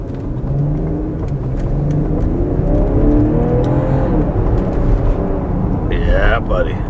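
A car engine revs hard at close range, outside sport mode, its pitch climbing and easing in loud, sustained sweeps for several seconds.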